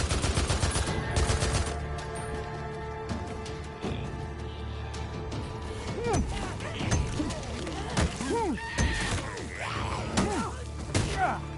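Gunfire from the video game Days Gone Remastered: rapid bursts of shots and heavy thumps early on, then scattered single shots mixed with groans and impact sounds, with a voice in the clip.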